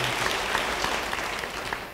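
A church congregation applauding during a sermon, a dense steady wash of many hands clapping together at moderate volume for a couple of seconds, easing slightly toward the end.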